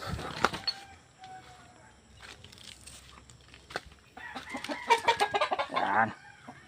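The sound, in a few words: chickens clucking in small chicken coop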